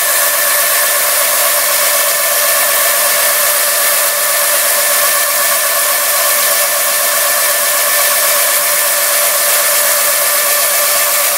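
A steam turbine runs under 12 kilos of pressure with a loud, steady hiss and whine, a continuous broadband roar that holds a few high tonal lines and never changes across the whole stretch.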